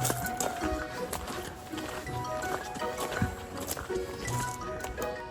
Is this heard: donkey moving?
yes